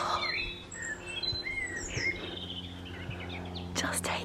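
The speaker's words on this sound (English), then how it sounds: "listening to a bird song symphony" Birds sing and chirp in a garden orchard, several overlapping calls and trills over a faint low hum, with a brief rustle near the end and no clear talking.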